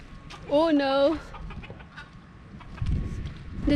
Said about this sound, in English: The chicken gets scared of me.